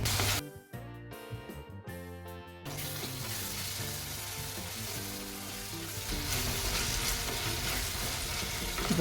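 Onions and tomatoes sauté in a covered pan for a dried-fish curry. A soft, steady sizzle and crackle continues throughout, briefly mixed with a tonal background sound at the start.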